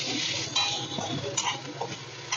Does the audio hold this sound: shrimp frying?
yes